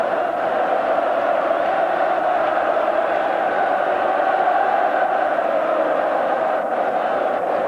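A massive football crowd roars and cheers continuously at Hampden Park during the 1988 Scottish Cup final between Celtic and Dundee United, a dense, loud, even wash of voices filling the stadium.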